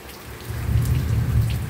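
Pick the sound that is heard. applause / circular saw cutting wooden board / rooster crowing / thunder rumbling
thunder rumbling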